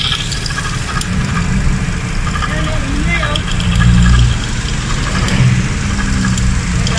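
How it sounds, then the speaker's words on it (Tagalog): A car engine idles loudly up close with a whirring, squealing drive belt noise running through it, and voices talk over it. "Tumutunog rin ang belt."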